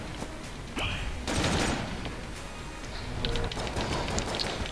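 Rapid video game gunfire from a Magnum pistol, delivered as a dense burst of sharp cracks followed by scattered clicks and impact noises, fairly close and loud.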